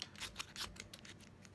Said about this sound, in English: A lot of you have been taught to use scissors